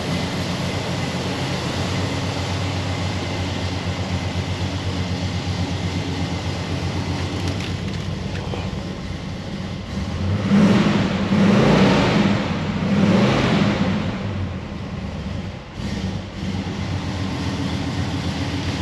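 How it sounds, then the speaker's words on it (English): A 1980 Pontiac Trans Am Bandit engine runs steadily at a low rumble, then swells through two or three louder rev bursts mid-way before settling back to idle, close by with no talking. "Engine sounds real good."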